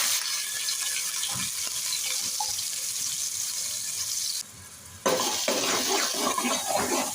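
Finely chopped onions with a pinch of asafoetida sizzle in a pan with a steady, close hiss. The sizzle drops off briefly partway through and then flares back loudly.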